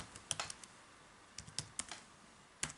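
Keys clack on a computer keyboard in short bursts with pauses between, quiet and close, with no talk.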